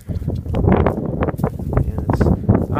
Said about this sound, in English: If the wind's bad, I'm sorry, but can't do as much.